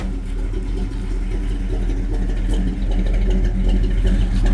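A freshened-up 350 V8 in a 1984 Chevy C10 pickup with a 4-speed runs steadily, a deep, close rumbling idle with a slight swell in revs near the end, alone with no talk.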